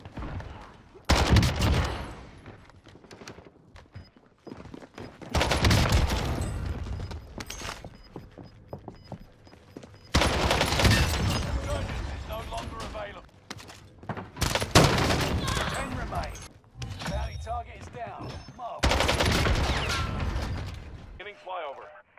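AMAX rifle fire in Call of Duty on Rebirth Island comes in several loud, sustained automatic bursts separated by short pauses, with someone talking over the gunfire.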